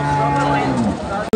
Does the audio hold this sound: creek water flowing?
no